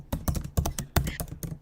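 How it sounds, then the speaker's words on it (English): Loud computer keyboard typing in a video call, with sharp, close key clicks in an irregular rhythm of about eight strokes and no voice over them. "Her keys are very loud."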